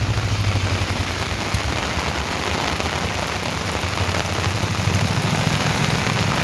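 Heavy first monsoon rain pours down steadily in a Gujarat village, a dense, even hiss that stays loud and unbroken with a low rumble underneath.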